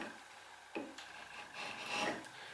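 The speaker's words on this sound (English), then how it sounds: "the cutting edge will come over and start to take a shaving" Hand chisel paring a thin shaving from a wooden workpiece, riding on its bevel: a few soft, close rasping scrapes, with a brief sharper cut near the start and a longer, louder scraping stroke toward the end.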